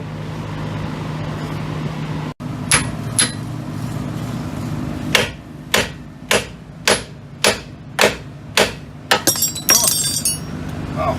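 A hammer strikes the wheel hub of a second-generation Dodge Ram 4x4, about ten loud, ringing metal blows in a steady rhythm that quicken toward the end. The blows are close, after a quieter stretch of low shop hum.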